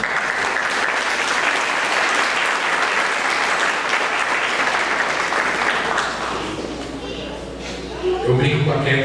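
A church congregation applauds the mothers called up to the altar during a Mother's Day sermon, loud sustained clapping that fades toward the end as a voice begins speaking.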